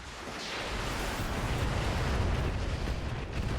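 Inferno autocannon rounds slamming into a Nidhogg mech in the game RogueTech, a dense, continuous rumbling barrage of fiery impacts that swells and holds steady, loud and low-heavy with no voices.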